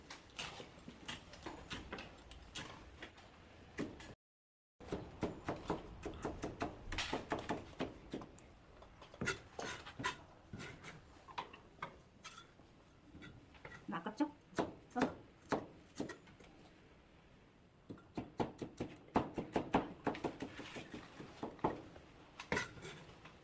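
Bell pepper being cored and diced on a cutting board for shrimp fried rice, irregular close knife taps and chops with short pauses, some quicker bursts of rapid cutting.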